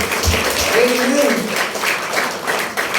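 Church congregation applause fills the room as continuous clapping, with a speaker's voice heard over it partway through.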